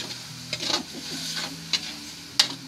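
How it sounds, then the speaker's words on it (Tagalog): Pancit noodles cook in a pan, a continuous soft sizzle broken by a few brisk stirring scrapes, close by with no talking. "Luluto tayong pansit ngayon"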